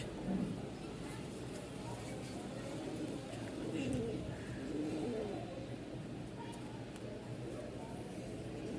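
Running Danish pigeons coo in low, soft, repeated murmurs, close by, over a steady bed of background noise.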